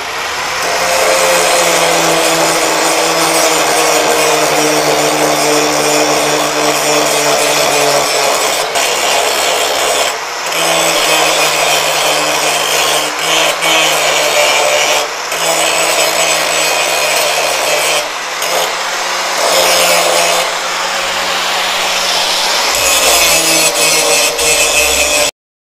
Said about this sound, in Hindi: ये जो वेल्डिंग उभरी हुई है इसको जो है एंगल ग्राइंडर से जो है आपने अच्छी तरह से जो है वो बराबर कर लेना है।